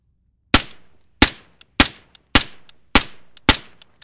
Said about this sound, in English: I'm going to shoot a couple of semi-auto rounds through this thing